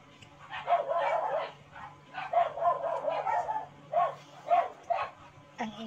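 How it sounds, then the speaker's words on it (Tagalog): A neighbor's dog barking in bursts nearby, short repeated yips and barks grouped in uneven runs, moderately loud over a quiet low hum, with a kitchen clatter at the very end. "Ang ingay naman ng aso sa kapitbahay."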